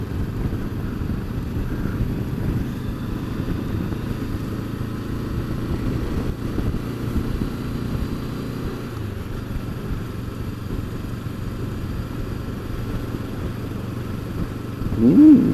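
A motorcycle rides along a brand-new road surface, with a steady engine drone and wind rumble close to the rider throughout, rising slightly louder near the end.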